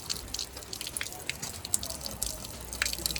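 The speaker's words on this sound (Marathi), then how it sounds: "ते पाणी चालू आहे" Water runs from a metered household tap in Patoda village near Aurangabad, a close, splashy trickle with irregular drips and spatters throughout.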